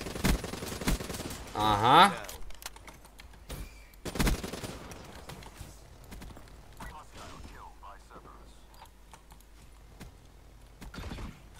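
Shotgun blasts in a video game: a few loud, sharp shots near the start, then scattered fainter pops and clicks, with a man's brief exclamation.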